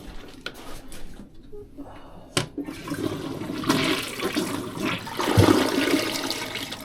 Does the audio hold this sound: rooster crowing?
no